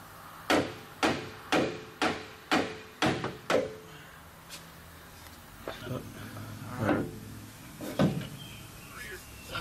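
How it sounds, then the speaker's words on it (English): A soft face hammer strikes seven times in quick, even succession during a Dodge G56 transmission clutch install, close and loud, followed by scattered lighter knocks and clunks with someone talking. "Use a soft face hammer."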